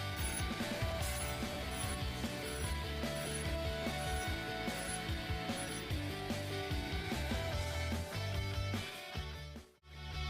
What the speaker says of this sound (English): Now we need to lower the clamp and set it down for grinding the fourth side.